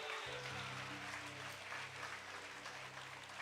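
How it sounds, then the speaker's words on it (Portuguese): A church congregation applauds steadily throughout, a dense sustained clapping from a crowd in a worship service, filling the space with little variation. "Aplaude o Senhor aí, vai."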